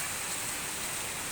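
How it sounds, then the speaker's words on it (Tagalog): Heavy rain pouring down steadily, a dense continuous hiss of water close by with no gaps or other sounds. "Sobrang lakas ng ulan."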